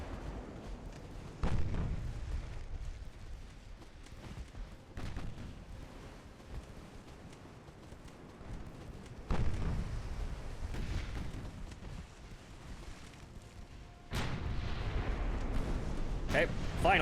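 Naval guns boom in the Ultimate Admiral Dreadnoughts game with French Navy ships: several heavy, rumbling artillery blasts spaced seconds apart over a steady low roar, with someone talking throughout.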